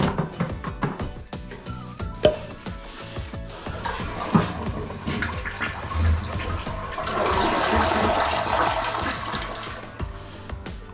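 Toilet flushing during drain-clog work, water rushing and swirling down the bowl with a building, sustained gurgling drain, close and loud with some clatter early on.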